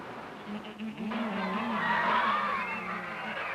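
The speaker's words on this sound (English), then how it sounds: "Those whistles, chirps, and grunts are the dolphins welcoming you to the Seven Seas Panorama." Dolphins at the Seven Seas Panorama give a run of sweeping whistles and chirps, fairly loud and continuous over a low, steady background hum.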